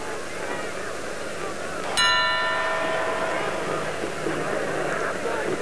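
A single bright ring of a boxing ring bell ends the round, struck once with a metallic clang that rings out and decays, heard over steady crowd noise at a fight.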